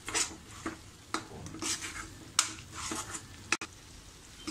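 Garam masala sautés in hot oil in a pan as a spoon stirs it, making quiet sizzling with intermittent scrapes and a couple of sharp metallic knocks, fairly soft and close, with no talking.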